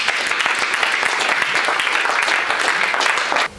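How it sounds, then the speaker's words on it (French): Loud, sustained applause from a congregation at a worship service, dense clapping filling the space without a break before it cuts off abruptly near the end. "Acclamons le Seigneur"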